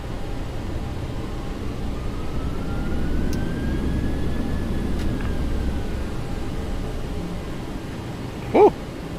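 A Boeing 737-800 in X-Plane 11 takes off with a steady, broad jet engine roar and rushing air throughout, plus a faint rising whine and a brief cockpit click near the end. No one speaks.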